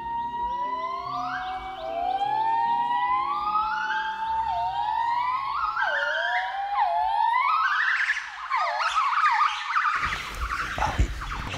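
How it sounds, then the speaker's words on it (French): A young gibbon in Laos gives a rising series of whooping, siren-like calls that climb and speed up, ending in a noisy rustling burst. "Ah oui, c'est un gibbon. C'est un petit jeune."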